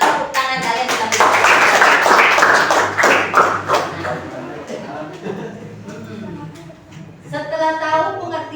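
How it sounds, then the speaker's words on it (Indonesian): Classroom students clapping hands: a burst of loud, many-handed applause that fades into scattered claps, with voices talking over and after it. "Tepuk tangan kalian kita."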